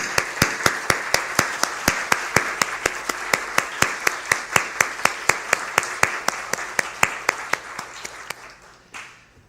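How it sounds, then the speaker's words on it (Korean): Church congregation clapping in unison during a Sunday worship service, a loud, evenly timed series of around thirty sharp claps that fades out at the end. "감사의 박수 하겠습니다"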